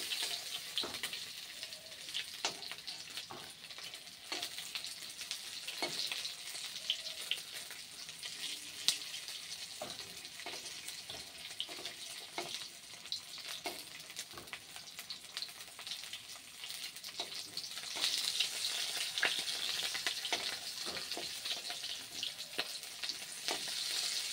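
Meat pieces frying in oil in a pan, a continuous soft sizzle with frequent crackles and stirring taps throughout, fairly quiet and steady, no voices.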